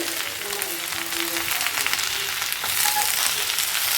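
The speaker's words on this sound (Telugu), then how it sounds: "బాగా వేసుకున్నాము చూడండి వేగుతూ ఉంది ఆకు" Moringa leaves fry in hot oil in a pan, giving a steady, close crackling sizzle with fine bursts that grows slightly louder toward the end, with no voices.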